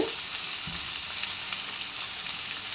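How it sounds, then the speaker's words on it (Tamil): Onions sautéing in a pan for Madurai-style chutney, an even, steady sizzle with faint soft knocks, close and fairly quiet throughout. "வெங்காயம் நல்லா வதங்கிருச்சு"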